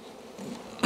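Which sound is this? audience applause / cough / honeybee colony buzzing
honeybee colony buzzing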